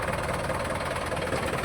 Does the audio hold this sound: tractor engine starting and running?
yes